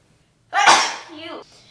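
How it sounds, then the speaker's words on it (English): A single sharp sneeze bursts out after a moment of quiet, followed by a short trailing breath. "I'm gonna sneeze"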